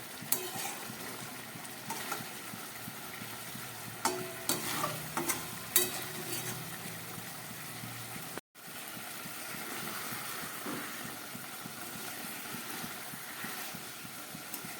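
Eggplant pieces sizzling and frying in a pan over a gas flame at medium heat, a continuous soft crackle with occasional stirring scrapes and a brief gap partway through.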